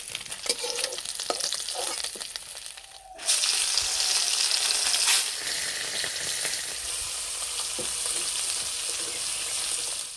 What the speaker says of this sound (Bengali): আর ঠিক এইভাবে একটু লাল লাল করে ভেজে নেব